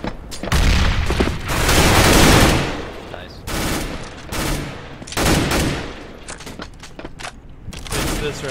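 Repeated bursts of loud, close gunfire from Counter-Strike: Global Offensive in a competitive match on the Nuke map, with sharp shots clustered into rapid volleys and brief gaps between them.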